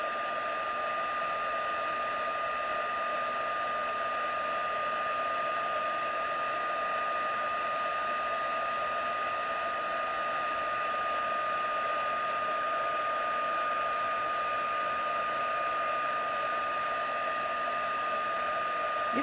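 A heat embossing tool blows hot air in a steady, unbroken whir with a constant tone, close and loud for the whole stretch, used on a papercraft slider box; no voices.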